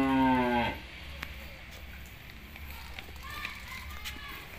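A 5.5-month-old calf lets out a deep, drawn-out moo at the start, then fades into quiet barnyard noise with faint clatters.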